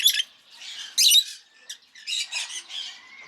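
Lovebirds squawking in short, harsh bursts close by in an aviary, several rapid calls overlapping with brief gaps between them.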